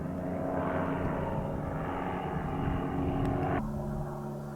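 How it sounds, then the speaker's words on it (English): Small propeller airplane droning overhead above a desert ridge near Picacho Peak, Arizona, a steady moderately distant engine hum with a slight pitch shift that drops off abruptly near the end. "I saw this plane come right over the ridge"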